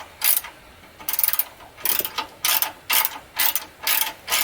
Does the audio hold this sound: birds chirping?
no